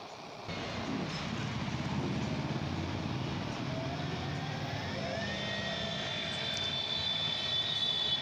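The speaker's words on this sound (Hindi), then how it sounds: "मोटर हमारी चल चुकी है।" A rewound 48V e-rickshaw motor hums steadily at speed on the bench, a continuous mechanical whine that rises in pitch partway through as it picks up speed, with no talking.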